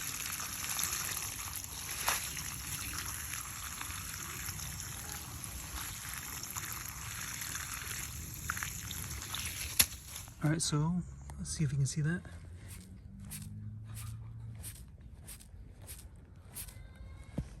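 Steady background noise with a voice, then wet squelching footsteps from water squeezing out of Danner boots, a run of evenly spaced sloshing steps close by.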